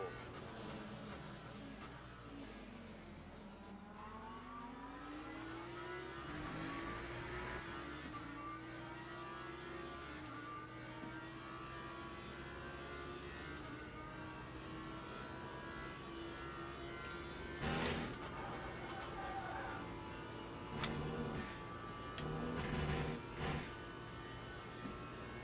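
LMP prototype race cars approach in the Le Mans Ultimate racing game over the player car's steady, droning engine whine, with louder bursts of engine noise later on.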